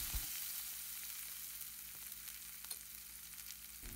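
Urad dal and tempering with coriander leaves frying in a pan, a steady, even hiss of sizzling oil with faint stirring scrapes, with no one speaking.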